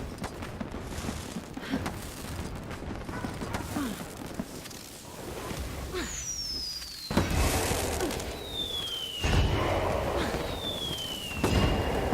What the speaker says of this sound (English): I have a shitload of fireworks